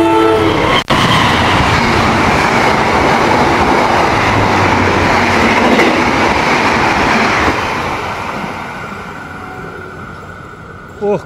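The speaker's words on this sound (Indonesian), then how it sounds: "Gokil, ngebut banget kereta api Kertanegara" A passenger train, the Kertanegara express, rushes past close by at about 120 km/h, a loud sustained roar with rattling wheels that gradually fades as it moves away.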